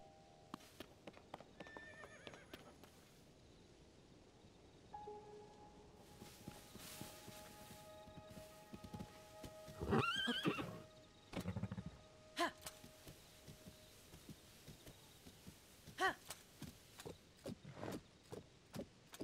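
Horse in Zelda: Tears of the Kingdom, hooves clip-clopping in scattered bursts of footsteps, with a loud whinny midway and further neighs and hoof steps afterward, fairly close and clear over a quiet background.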